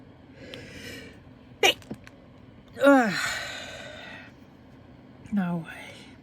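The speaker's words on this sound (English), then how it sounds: "sneezing." Two or three sneezes from one person, sharp bursts spaced a few seconds apart, close to the microphone over the steady hum of a running fan, with faint breathing between them.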